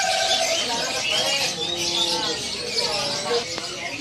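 Bali zebra dove (perkutut Bali) at a bird market, giving soft warbling coos among other chirping cage birds, with market chatter and voices around.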